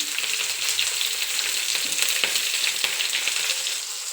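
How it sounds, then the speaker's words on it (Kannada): Onion and capsicum fry in a pan with a steady, close sizzle and occasional stirring clatter, with no voices. "ಆನಿಯನ್ ಸ್ವಲ್ಪ ಫ್ರೈ ಆಗ್ತಾ ಇದ್ದಂಗೆ ಕ್ಯಾಪ್ಸಿಕಮ್ ಸೇರಿಸ್ತಾ ಇದ್ದೀನಿ"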